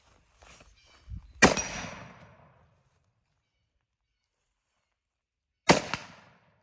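Two loud, sharp reports from a Zastava M77 bolt-action rifle in .308, each cracking out and trailing off in a short outdoor echo, spaced about four seconds apart with quiet between them.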